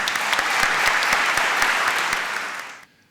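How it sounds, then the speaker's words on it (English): Audience at a university opening ceremony breaks into applause, dense sustained clapping from a large crowd that fades out and stops abruptly near the end. "I'm now going to ask you to give them a round of applause."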